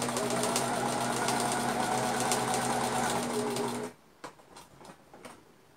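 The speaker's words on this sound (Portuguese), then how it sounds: "Costurei a nossa asinha em todo o contorninho" A sewing machine stitches all the way around the outline of a cloth doll's wing, running in a steady, loud mechanical whir for about four seconds before stopping abruptly, leaving only faint light knocks and clicks.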